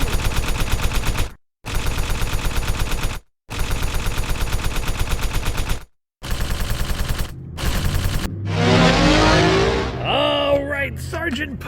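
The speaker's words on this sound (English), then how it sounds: "Sergeant Pyro, we're gonna light race car by Winda Fireworks" Race Car firework fountain by Winda Fireworks, top piece removed, set off outdoors on a street: bursts of rapid crackling pops with brief gaps, then a dense hissing spray and whistling that fades out.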